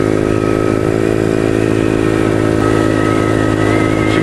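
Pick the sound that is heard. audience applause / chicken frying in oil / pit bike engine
pit bike engine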